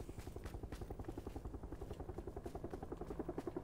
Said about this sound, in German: Ich höre gerade den Heli, ja.